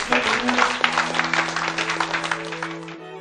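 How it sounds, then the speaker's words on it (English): Dense, steady applause from a large audience at a university graduation ceremony, filling the whole stretch and tapering slightly toward the end, with a low hum underneath. "give them another round of applause"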